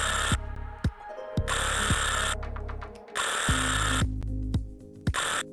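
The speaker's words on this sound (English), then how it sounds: "The grinding sound you are hearing, usually, indicates a bad starter drive." A car starter grinds against the ring gear from a bad starter drive as the ignition is turned, coming in several loud whirring bursts split by short clicks and pauses, with no talking.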